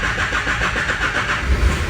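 A Ford B250 van's engine cranks and catches, settling into a steady, close mechanical rumble with a brief louder surge near the end and no talking.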